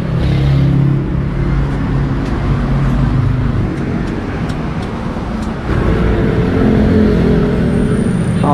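A motorbike engine idles and revs in a steady, loud, close drone, easing off briefly partway through and then rising again, with traffic-like road noise around it.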